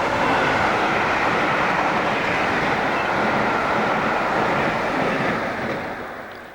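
A British Rail train roars past on a 1990s line, a loud continuous broadband rush that holds steady and then begins to fade toward the end.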